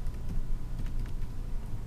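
A password typed on a computer keyboard: soft, rapid keystrokes close by, clicking in an uneven run over low room noise, with no talk.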